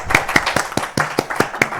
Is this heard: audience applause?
yes